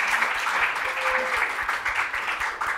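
An audience at an evening talk on Italian Renaissance literature applauds warmly, with steady, dense clapping and a few cheers sustained throughout.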